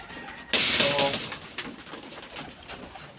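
Pigeons outdoors in cold winter weather: a sudden burst of fluttering and soft cooing breaks in, then fades into steady background noise with a few scattered sounds.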